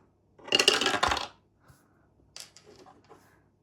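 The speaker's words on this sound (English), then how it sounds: "So I'm going to use my heads or tails dice." A heads-or-tails die is tossed onto a hard surface: one loud clattering impact, then a few lighter rattles and taps as it settles, with no talking.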